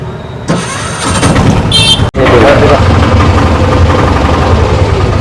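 A vehicle engine cranks and catches, then settles into a loud, close rumble that carries on steadily as it pulls away, with talk over it after a sharp break in the sound.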